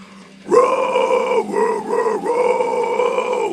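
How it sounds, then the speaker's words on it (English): A deep guttural death growl vocal, sustained and rough, with a couple of short breaks between held notes, loud and close. "So death growl sounds like this."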